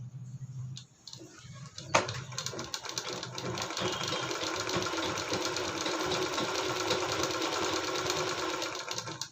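A sewing machine stitches a fabric cover made from scrap cloth, starting after a brief handling clatter and then running as a fast steady mechanical whir with rapid ticking, close and continuous without talk.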